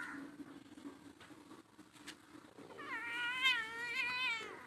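A pet cat gives a drawn-out, wavering meow near the end, loud and close, after a stretch of quiet household background with a few soft thumps.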